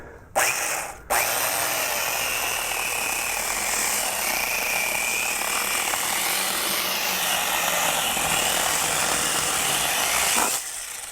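An angle grinder with a chainsaw attachment kicks on with a brief stutter, then runs at a loud, sustained whine while cutting through a wooden log for about ten seconds before stopping.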